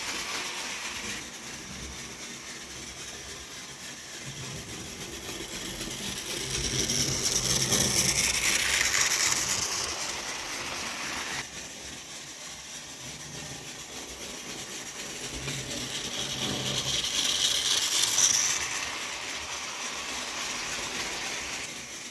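A model railway locomotive runs steadily around its track, a continuous whirring rumble that swells twice as the engine passes close, then fades as it moves away.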